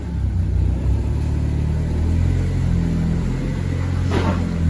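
A Mitsubishi Colt Ralliart with coilover suspension drives up onto a dyno for a remap, its engine giving a low, steady rumble close by, with a brief rise in revs near the end and no talking.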